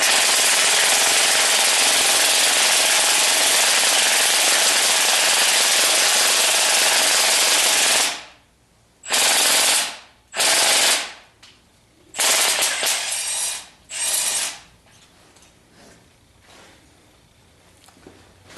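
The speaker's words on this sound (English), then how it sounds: "before I put the impact wrench on" An impact wrench tightens cylinder head bolts on a 1976 Corvette restomod, starting with a long continuous loud rattling burst, then several short separate bursts with quiet gaps between them, close and harsh with no talking.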